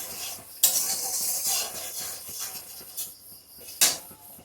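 Spices being sautéed in a pan for a vegetarian pumpkin-seed curry, with a steady close sizzle under scraping stirs and two sharp metallic clacks of the spoon against the pan; no one speaks.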